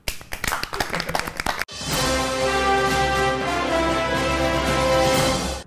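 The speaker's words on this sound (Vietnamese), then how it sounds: "Vỗ tay." A studio audience on a celebrity game show claps in a short burst of quick applause lasting under two seconds, then a loud sustained music sting takes over.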